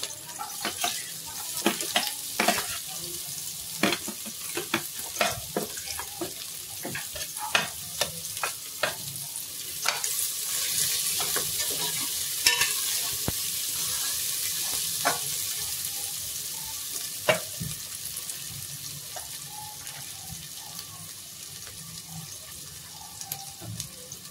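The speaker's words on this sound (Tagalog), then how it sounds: "Igisa natin onti ang mga rekado." Ginger and spices sautéed in a pan for Iloilo-style dinuguan: a soft sizzle under repeated sharp clicks and scrapes of a utensil against the pan, close-up and without speech.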